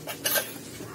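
Washed dishes being handled to drain, brief metallic clatter and clink of utensils and pots knocking together, close and fairly quiet, a couple of quick knocks within a second with no talk.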